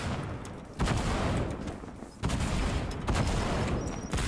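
A rocket barrage in Fortnite: a dense, continuous roar of overlapping blasts and explosions, with heavy surges of impact noise around one second and again past two seconds, loud and close throughout.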